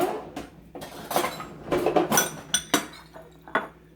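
Crispy browned cauliflower is spooned onto tacos, with a short run of close metal spoon clinks and scrapes against a dish, several sharp taps toward the end.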